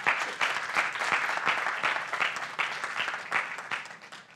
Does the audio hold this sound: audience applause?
yes